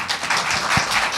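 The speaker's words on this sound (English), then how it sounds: "We'll give one more round of applause" An audience applauds at the close of a panel session on combination prevention, a steady wash of many hands clapping at moderate volume for about a second, with no voices over it.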